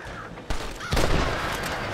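Gunfire from the video game Red Dead Redemption, with two sharp shot onsets followed by a dense burst of rapid shots and noisy game ambience that carries on to the end.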